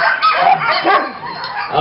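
A pack of sled dogs at a husky homestead near Denali, Alaska, bark, yip and whine together close by, a continuous loud overlapping chorus.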